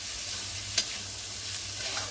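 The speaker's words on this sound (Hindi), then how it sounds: "अभी इसको अच्छे से मैं मिक्स करूंगा ताकि अच्छे से मसाले में मिक्स हो जाए।" Soya chunks in spicy masala fry in a pan with a constant, even sizzle, while a single light tick of the stirring spoon cuts through the hiss.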